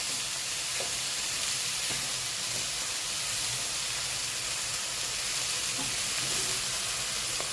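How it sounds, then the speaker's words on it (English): Egg fried rice being stir-fried with ingredients folded in, a constant loud sizzle and hiss with occasional soft scrapes of stirring and no talk. "Fold those ingredients in."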